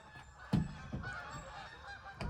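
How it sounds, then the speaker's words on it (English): Geese honk loudly in short, harsh bursts, several sharp calls close by, spaced irregularly over a low background murmur. "I hear my geese coming. Wow, it's about to get really loud."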